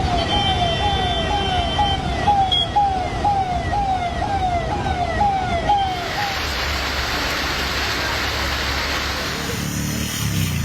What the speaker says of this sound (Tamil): எடப்பள்ளியில் சாலையில் தேங்கியுள்ள மழை நீரில் ஆம்புலன்ஸ் ஊர்ந்து சென்றது